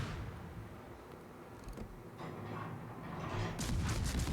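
Heavy battleship gunfire in World of Warships, a naval combat game, rumbles as a dull, distant boom inside a constant low roar, followed by a brighter crackling burst near the end.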